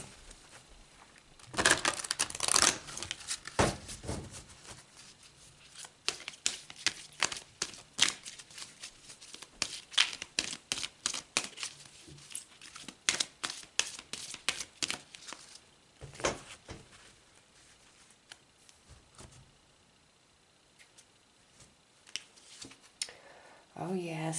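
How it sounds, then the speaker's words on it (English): Oracle cards are shuffled and pulled for a spiritual reading, making a long run of rapid riffling and slapping card sounds in bursts, fairly close and distinct, with brief pauses between shuffles. "pull some cards."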